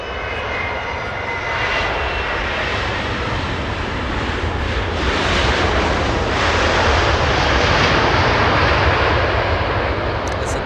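A Boeing 757 at Los Angeles International Airport produces a powerful, continuous engine roar that builds gradually and stays loud for the full stretch, with no voices present.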